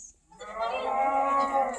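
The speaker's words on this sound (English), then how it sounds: "A cow." A single cow on a farm lets out one long, clear moo that starts after a short silence and holds steady, close and fairly loud, with no talking over it.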